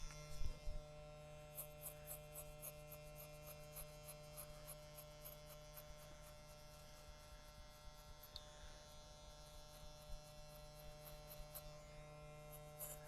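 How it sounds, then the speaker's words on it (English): A magnetic hair clipper runs steadily through a fade haircut, a constant electric buzz and hum with faint rhythmic clicking throughout, no talking. "you can really feel that these are a magnetic clipper"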